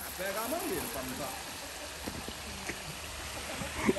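Water runs from a garden hose while a new car is washed outdoors, a steady watery hiss with splashy spatters, mixed with voices talking over it.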